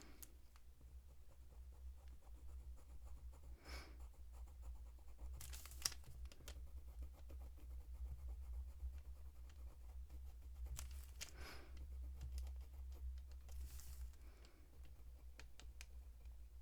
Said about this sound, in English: The same circular movement with the pencil that we did previously.